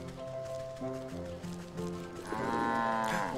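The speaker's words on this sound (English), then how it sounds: "A cow." A cow moos in the video game Wytchwood, a long low drawn-out call over steady game music, rising and thickening toward the end.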